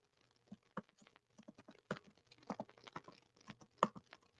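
Someone typing on a computer keyboard, soft scattered keystrokes in short irregular bursts, close but quiet against a silent room with no talking.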